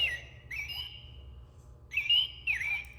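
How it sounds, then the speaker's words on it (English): A robin sings a few clear whistled phrases, bright chirping notes in two short bursts separated by a pause, heard near and alone over a faint low hum. "A robin or a bird."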